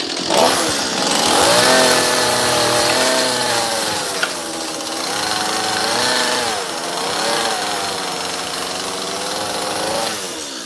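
A chainsaw carving a small wooden bear, the engine revving up and down in rising and falling waves as the blade cuts, loud and close with no talk.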